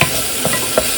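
Minced garlic sizzles in a pan over moderate heat, giving a steady close frying hiss broken by a couple of soft stirring clicks.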